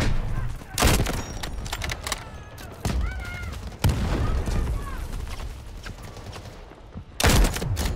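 Gunfire in the first-person shooter Delta Force during a firefight over an objective: sharp loud shots and bursts close up, with dense background combat, while someone talks at moments.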